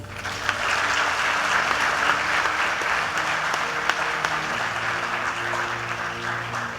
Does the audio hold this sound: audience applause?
yes